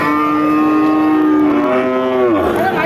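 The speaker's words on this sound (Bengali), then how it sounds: "এই যে ষাড় বাছুর গরুটা" A bull calf moos loudly and close at a cattle market selling Sahiwal, local and crossbred calves, one long sustained call that bends downward in pitch toward the end.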